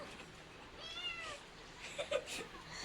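A cat meows faintly a few times at a rural home, with a rising, drawn-out cry and then shorter calls against a steady background hiss.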